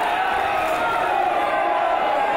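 Wrestling arena crowd in Hull before a grudge-match main event, a steady dense murmur of many voices filling the hall, continuous and fairly loud with no distinct cheers.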